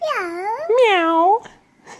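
A voice imitates a cat's meow, two drawn-out wavering mewing calls in quick succession, close and clear, followed by a short faint breathy sound.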